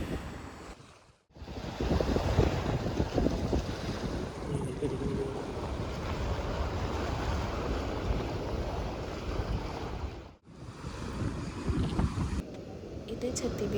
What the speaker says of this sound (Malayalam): ഇത് ചെത്തി ബീച്ചിൻ്റെ ഒരു ഭാഗം തന്നെയാണ്, അതായത് ഈ കടൽപ്പാലത്തിൻ്റെ അടുത്ത് ചേർന്നിട്ട് തന്നെയുള്ള ഭാഗമാണ് കേട്ടോ